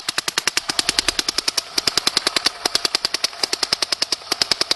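Dye NT paintball gun firing in a fast, steady stream of sharp, close pops, roughly eight shots per second, with no voices over it.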